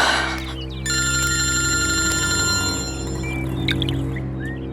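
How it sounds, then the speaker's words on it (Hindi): A phone rings with a steady electronic tone, sustained and fairly close, under a low background hum. "ये फोन क्यों नहीं उठा रही है?"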